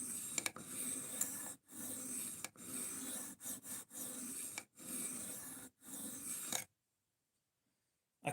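A Sebenza knife edge gets a quick touch-up and deburring, heard as a series of short, soft rubbing strokes, about ten of them, close by and quiet, with brief pauses between passes before falling silent.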